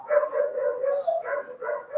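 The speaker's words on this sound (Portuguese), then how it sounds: "desculpa pelo cachorro do vizinho" A neighbor's dog barks in a quick run of yips and barks, steady and moderately loud, with no other sounds.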